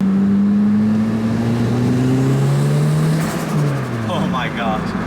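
A Toyota Celica GT-S Turbo engine revs and pulls while driving, loud and close, the pitch climbing and falling through gear changes, with a voice talking briefly near the end.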